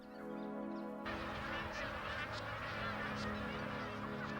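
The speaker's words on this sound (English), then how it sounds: "as do the thousands of magpie geese that fly into Lakefield to breed" Magpie geese honk in a dense, overlapping chorus from a large flock at Lakefield, a steady layered clamour of calls lasting throughout.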